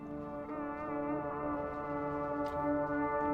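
Sustained layered synth pads and droning tones carry a squad theme cue in a music soundtrack, steady and full throughout with a brief bright accent near the end.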